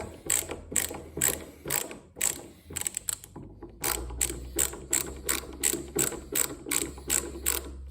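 Hart ratcheting screwdriver loosening a screw, giving loud, close, rapid ratchet clicks in quick bursts and then a steady rhythmic series.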